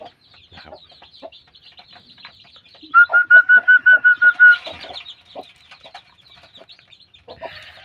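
A newly hatched chick gives a run of about ten rapid, clear peeping chirps, loud and close, over quieter scattered cheeping and faint clucking from other farm fowl, with no talking.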